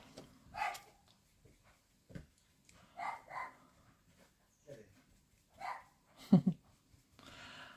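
Dogs bark in short, scattered bursts at a distance, with faint voices and background noise between the barks.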